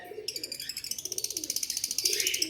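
A breeder pair of pet birds, a common white male and a grey pied female, calling with a rapid, steady run of repeated soft cooing and chirping notes, close and fairly loud over faint background noise.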